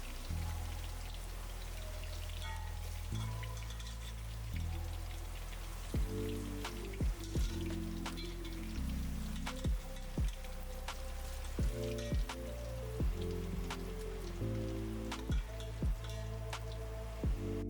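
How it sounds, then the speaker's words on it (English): Chicken drumsticks frying in oil in a pot for curry noodle soup, a dense steady sizzle with crackling pops, plus a few sharp clinks of utensils against the pot. "then we'll fry our drumsticks next."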